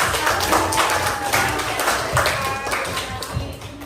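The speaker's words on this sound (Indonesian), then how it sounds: "Ya, beri tepukan untuk" A classroom group of students claps hands together for a presenting group, a steady patter of overlapping claps at moderate distance with some background voices mixed in.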